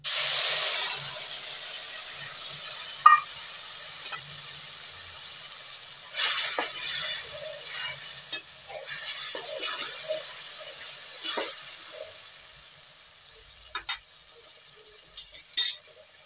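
A ground paste of ginger, garlic, chili, onion and whole cumin hits hot oil with a bright hiss that settles into steady frying, broken by a few spoon clinks and stirring scrapes.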